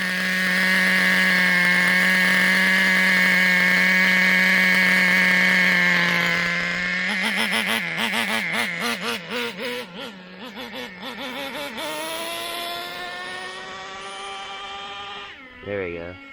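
A Traxxas T-Maxx 2.5 nitro RC engine fitted with a Losi 3.4 carburetor runs loud and close, holding a steady, rich buzzing idle before it wavers and revs unevenly, then cuts off.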